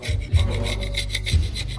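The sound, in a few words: scraping a Nissan ZD30 engine part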